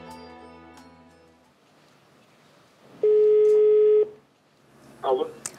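Calling a company's phone number: a loud steady electronic line tone holds for about a second, preceded by quiet background music and followed by a brief voice.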